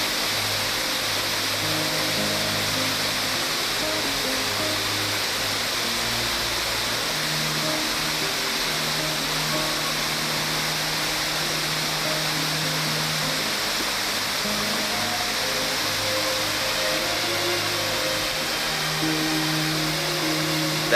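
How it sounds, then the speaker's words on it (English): Steady, dense rush of the third Olumirin waterfall in Osun State, a continuous broadband roar that holds evenly throughout with no pauses. "This third waterfall is not as high as the first and the second."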